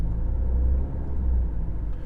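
2015 Jeep Cherokee engine idling after an automatic stop-start restart, a low steady rumble heard from inside the cabin with no other sounds.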